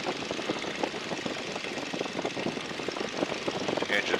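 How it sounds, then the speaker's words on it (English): During a pre-flight check, the radial engine of a 1942 Boeing Stearman biplane runs with a steady, close, throbbing drone that stays loud and even for several seconds. "So what I'll do here is I'll check the engine."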